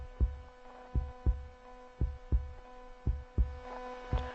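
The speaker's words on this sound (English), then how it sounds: "It was the beating of the old man's heart." A steady, muffled heartbeat thumps at an even pace, low and dull, about two beats per second over a faint hum.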